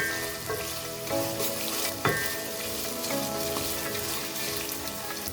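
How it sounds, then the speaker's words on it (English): Boiled beef fries in hot oil with a loud, dense, continuous sizzle and crackle, joined by occasional stirring scrapes, close up and with no voices. "Then as I fry, I'm going to add a pinch of salt. I'm going to fry this till it turns golden brown."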